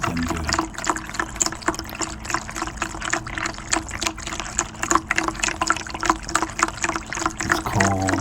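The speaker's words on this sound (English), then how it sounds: "She really loves to drink the water when it's pouring straight out" A thin stream of water pours and trickles steadily while a pet laps from it, with small splashy ticks recurring throughout at close range.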